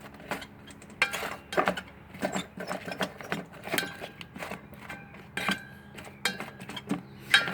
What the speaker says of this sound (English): So what I'm going to do is just stir it up a little bit.